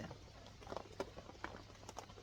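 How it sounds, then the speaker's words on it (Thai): Steady rain falling in cool weather, a soft, faint patter of scattered drops that continues evenly throughout with no voices. "ฝนตอนนี้ฝนตกก็แก๊กก็แก๊กก็แก๊กตกตลอดเลยช่วงนี้นะครับ"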